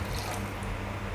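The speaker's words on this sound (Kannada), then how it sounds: "ಎಷ್ಟು ಬೇಕೋ ಅಷ್ಟು ನೋಡಿಕೊಂಡು ನೀರು ಹಾಕಬೇಕು" Water pours steadily into a pot of tomato rasam seasoned with jaggery and rasam powder, a continuous soft splashing hiss lasting about a second with no talking.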